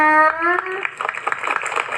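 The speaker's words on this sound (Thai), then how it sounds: "ขอเสียงปรบมือให้" An audience at a school stage performance breaks into brief applause, a crackling patter of many hands that follows a voice speaking and continues at moderate loudness.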